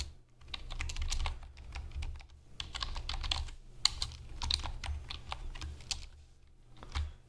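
Rapid keystrokes on a computer keyboard, typing out code in bursts of quick clicks with short pauses between, close and fairly loud over a low steady hum.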